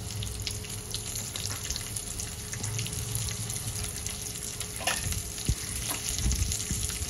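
Large sliced onion pieces fry in a pan for coconut milk pulao, a continuous close sizzle with faint stirring and scraping throughout.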